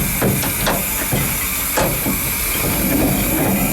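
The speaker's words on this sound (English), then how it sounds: "we pull this handle backwards and it emits steam to the cylinders" Steam hisses loudly and continuously on the Ecclesbourne Valley Railway steam locomotive as steam is let through to the cylinders, with a few close metallic clanks and knocks punctuating the steady rush.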